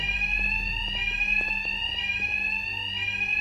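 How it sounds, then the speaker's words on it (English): A loud, continuous electronic alarm rings steadily throughout in Batman: Arkham Knight, a shrill sustained tone with a rapid pulsing rattle underneath, no voices. "Good, the alarm is on."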